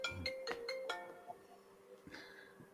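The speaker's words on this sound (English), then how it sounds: "My phone's gone off. I forgot to switch it on silent." A mobile phone ringtone goes off indoors, a bright melodic sequence of chiming tones repeating over nearly three seconds, fairly clear and close with no talking over it.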